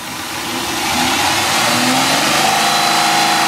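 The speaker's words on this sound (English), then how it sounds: "let's listen to the engine revving right now" A 2008 Chrysler 300 Touring's 3.5 liter V6 revs up steadily, its engine note rising and holding loud and close, with no talking over it.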